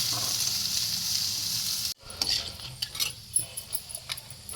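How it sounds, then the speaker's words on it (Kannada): Steady sizzling of hot oil cuts off abruptly, followed by crackles and sputters with a few sharp pops as asafoetida, mustard seeds and chana dal fry; no voices. "ನಾನು ಒಗ್ಗರಣೆಗೆ ಎಣ್ಣೆ ಇಟ್ಬಿಟ್ಟು ಅದಕ್ಕೊಂಚೂರು ಇಂಗು ಮತ್ತು ಸಾಸಿವೆ ಕಡಲೆಬೇಳೆ ಒಂದು ಸ್ಪೂನ್ನಷ್ಟು"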